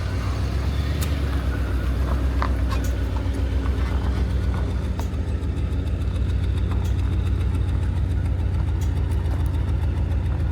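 A 1995 Cadillac Seville engine idles with new mufflers and block exhaust tips, giving a steady, loud low rumble that runs unbroken throughout.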